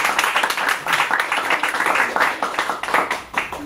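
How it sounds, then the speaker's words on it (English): Loud, dense applause from a Toastmasters meeting audience welcoming the grammarian, steady clapping filling the room throughout with no talk over it. "Please welcome her with a loud applause"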